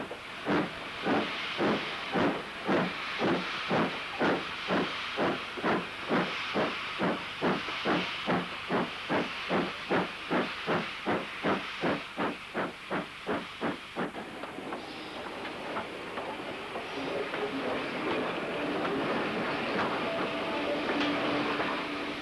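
Steam locomotive 70004 William Shakespeare arrives on shed at Newton Heath, chuffing in a steady, rapid rhythm for about fourteen seconds, then the beats stop and a continuous hiss of steam carries on.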